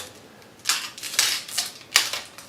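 Protective film is peeled off the pickup of a Gretsch G5260 baritone guitar in a few short, crisp tearing rips, close and fairly loud against a quiet room.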